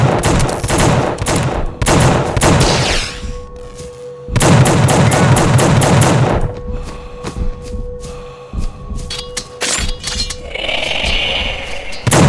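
Several bursts of rapid gunfire from an inmate's gun in the horror action game The Suffering, set in a quarry, loud and close with short pauses between volleys and a steady electronic hum underneath.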